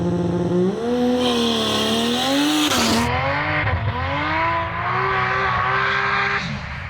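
A drag racing car called the Barra Shaker doing a practice launch at a drag battle event, a loud close engine roar rising and falling in pitch with a sharp shift midway, backing off early.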